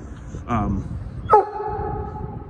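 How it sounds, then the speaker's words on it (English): A frustrated dog gives a short bark early on and then a sharp, higher yelp-like bark a moment later. Both sound fairly close against a steady background. "He's getting frustrated, but a bark like no other."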